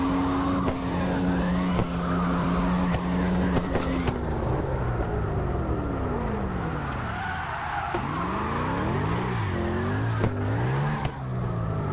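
A racing-game car skids out of a handbrake turn and downshifts into second gear. The engine revs rise and fall audibly, with tire squeal, loud and close, and no talk.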